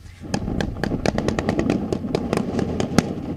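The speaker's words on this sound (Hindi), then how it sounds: "देखिए मेरे बगल में बिल्कुल एक टैंक है जो फायरिंग जिसने शुरू कर दी है" Tank firing on the front line of the Ukraine war: a rapid series of sharp, loud bangs and cracks in irregular bursts, close by, with a voice briefly heard amid the blasts.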